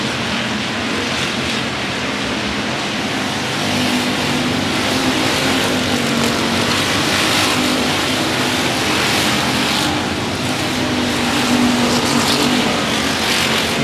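Race cars lapping a speedway oval, most running the bottom groove, produce a steady, loud engine roar that swells and fades slightly as the pack circles, heard from trackside without commentary.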